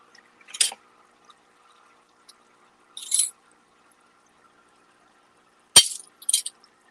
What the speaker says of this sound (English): that glass is really loud.